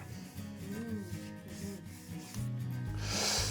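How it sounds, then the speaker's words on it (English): A spalted beech test-tube vase with soft and hard spots is sanded on a lathe, giving a quiet steady rubbing hiss over a low motor hum, with a brighter scrape near the end. "I can't sand too long, otherwise I will sand holes in here."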